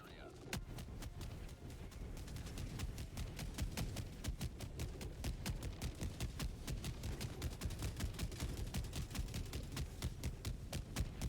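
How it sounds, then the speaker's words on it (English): An orbital barrage strike in Helldivers 2 sets off a dense, continuous run of sharp explosive blasts. They land in rapid succession across the whole stretch, loud and steady, under layered game battle noise. "Firing orbital barrage."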